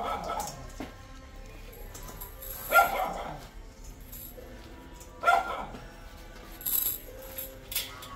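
A mother dog that has recently given birth and is acting aggressive lets out a few sharp, separate barks at close range, mixed in with a person talking nearby.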